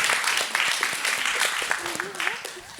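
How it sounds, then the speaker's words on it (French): Applause from an audience during a French stage show, a moderate spread of clapping heard under a speaking voice that continues over it. "On t'applaudit quand même"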